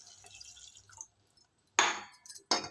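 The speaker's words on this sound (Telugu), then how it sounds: "275 ml వాటర్ పోస్తున్నాను అండి." Water is poured from a glass into chicken curry in a pan, heard as two short splashing gushes after a quiet kitchen moment, close and fairly loud.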